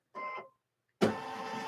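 A sewing machine stitches a shirt opening closed: a short whirring burst of the motor, a pause, then a longer, steadier run of machine noise.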